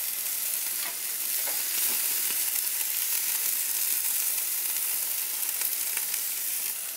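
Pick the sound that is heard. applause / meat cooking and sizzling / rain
meat cooking and sizzling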